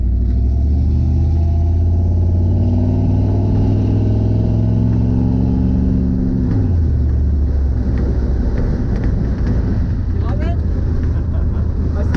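A 1947 Ford fitted with a 1UZ VVTi V8 runs loud and close, its engine note climbing steadily under light throttle before dropping back, with a continuous rumble throughout.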